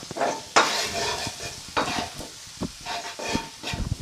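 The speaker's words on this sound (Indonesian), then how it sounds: "Menumis bawang putih dengan minyak goreng yang sudah panas." Garlic sautéing in hot cooking oil, a steady close-up sizzle with repeated scraping stirs and utensil knocks against the pan, no voices.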